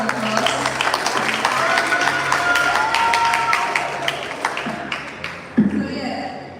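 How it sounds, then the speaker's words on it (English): An audience claps in steady, fairly close applause that builds and then tapers off, with a voice speaking briefly near the end. "Give him a round of applause."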